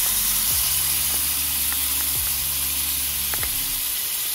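Grated shallots and garlic sizzle in melted margarine in a hot nonstick pan, a steady close hiss running throughout, with a few soft clinks of a utensil against the pan.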